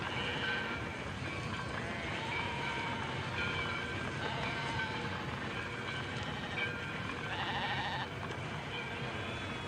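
Sheep bleating amid the rumble of a train in a 1959 film scene as the flock is led toward a slaughterhouse, repeated calls sitting over steady rail and crowd noise throughout.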